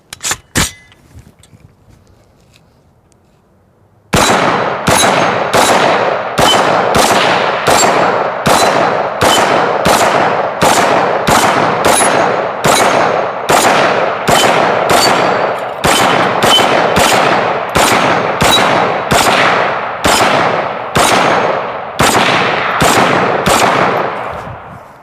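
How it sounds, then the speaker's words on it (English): A CMMG Mutant rifle firing 7.62 at steel targets, loud close shots in a long steady series of roughly one per second after a few quick sharp reports at the start, each crack ringing briefly. "we're just going to do a little bit of plinking first, shoot some steel"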